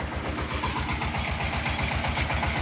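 A used Zubr walk-behind tractor, fitted with a side-driven tiller, runs its engine at a steady idle-like pace, a close, continuous low chugging with even rapid pulses and no voices.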